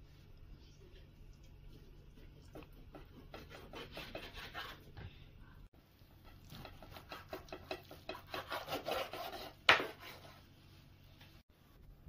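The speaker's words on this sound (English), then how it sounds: "So guys, let's start cutting it in strips" A knife slicing raw chicken into strips on a board, with repeated soft scraping, rubbing cuts in quick bursts, close and fairly quiet, plus one sharper knock near the end.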